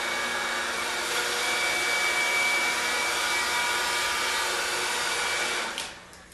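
Heat gun blowing hot air onto heat-shrink tubing over a soldered wire joint on a vehicle, a steady close broadband whoosh held at even level, then cutting off near the end.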